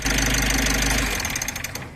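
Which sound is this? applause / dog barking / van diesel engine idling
van diesel engine idling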